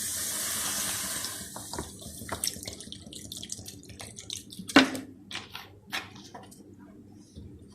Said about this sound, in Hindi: हाफ लीटर बोतल पानी की डाल रही हूँ